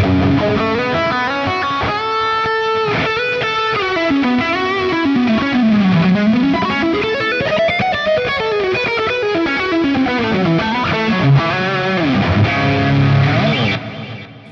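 Electric guitar lead tone played through a Fractal amp modeler, distorted and effects-laden with sustained bends and fast melodic runs, loud and continuous for about fourteen seconds before stopping.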